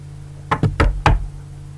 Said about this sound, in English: somebody knocked on the door